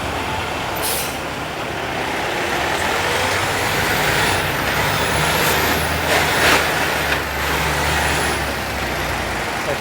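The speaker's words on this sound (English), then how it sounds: "I think this GO bus in front of me will be stopping at Yonge Mill Station." A GO bus braking to a stop on a Toronto street, with a heavy engine rumble, hissing air-brake bursts and high squeals amid steady loud road traffic noise.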